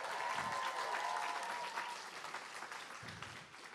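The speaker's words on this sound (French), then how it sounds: "Est-ce qu'on peut les applaudir bien fort?" A church congregation applauds the family being baptized, a dense, even wash of clapping filling the room at moderate level, thinning slightly toward the end.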